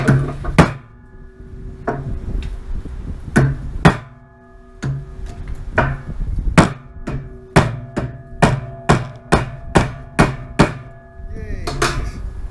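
Sharp metallic hammer blows ring out on a drill bit, first scattered, then in a steady rapid series, each strike loud and close with a brief ringing tail.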